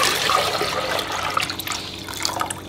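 Water pours steadily into a cooking pan as stock is started, a continuous splashing, trickling stream close to the microphone with no voices.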